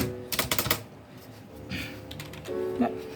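An EvoFox Fireblade TKL membrane gaming keyboard clatters under fast typing in a few short bursts of clustered keystrokes. The clacks are close and moderately quiet, with soft gaps and faint background noise in between.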